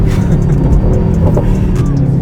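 A stock Mercedes-AMG GT 63 S 4-door coupé with a V8 engine pulls hard under acceleration, giving a loud, steady, close engine roar heard from inside the car with no talking.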